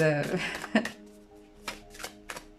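Tarot cards being shuffled by hand: a dense run of riffling card noise up front, then a few separate soft card slaps and flicks spaced apart, close and fairly quiet, with a voice talking over the opening.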